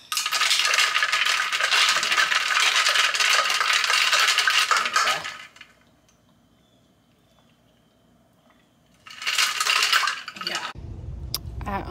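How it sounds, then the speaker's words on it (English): A spoon clinks and swirls in a drink, a loud rattling stir for several seconds, then quiet, then a shorter burst of stirring. "I probably need to stir it"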